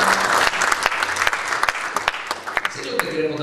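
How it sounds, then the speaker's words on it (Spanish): A church congregation claps for the Lord during a Spanish-language service, bursts of sharp claps spread through the room with voices and shouts mixed in, fairly loud and uneven, with a sustained tone entering near the end. "Le damos un fuerte aplauso al Señor."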